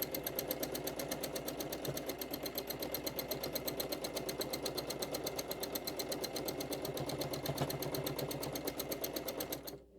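A sewing machine runs steadily during free-motion quilting, a fast even needle rattle repeating close and loud for nearly ten seconds before stopping abruptly at the end.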